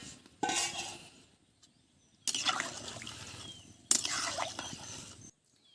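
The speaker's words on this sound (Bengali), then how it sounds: "ফুলকপি আর আলুগুলো ভালো করে কষানো হয়ে গেছে, এখন জল দিয়ে দিচ্ছি।" Water is poured into a pot of sautéed cauliflower and potatoes in three separate bursts, each a close splashing rush with faint clinks of utensils, separated by short quiet pauses.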